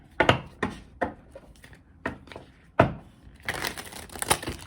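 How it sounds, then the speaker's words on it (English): Wild Unknown Alchemy tarot deck being shuffled by hand, a series of close, crisp riffling and tapping bursts of cards, ending in a denser flurry of shuffling. "Yeah, that's not a bad shuffle."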